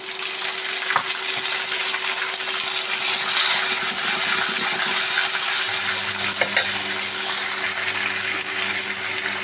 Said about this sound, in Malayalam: നന്നായി വഴറ്റി എടുക്കാം.